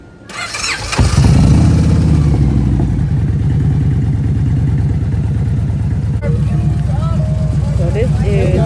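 A motorcycle engine fires up and then runs steadily with a rapid, even chugging pulse, loud and close, with brief voices around the start.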